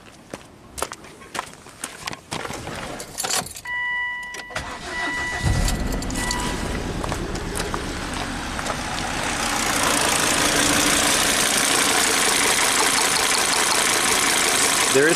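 Volvo engine after an ignition coil swap: clicks and a brief whirr, then the engine catches midway and settles into a loud, steady close idle that grows fuller toward the end.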